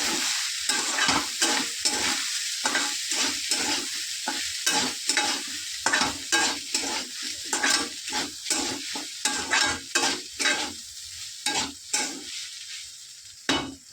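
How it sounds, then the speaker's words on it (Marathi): Cooked rice being stir-fried in a pan for egg fried rice, a steady sizzle punctuated by repeated rhythmic scraping and tossing strokes of a spatula, close and continuous with no talking. "आता भात चांगला परतून घेऊया."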